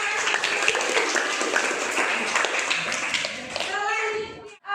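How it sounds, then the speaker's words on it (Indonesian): A classroom audience of students claps for a classmate, a steady crackle of applause that fades near the end as a voice begins to speak. "semuanya beri tepuk tangan untuk Fira."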